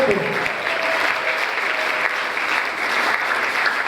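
A church congregation at a Sunday worship service bursts into sustained applause and cheering, a dense, steady wash of clapping that carries through the whole stretch with voices mixed in.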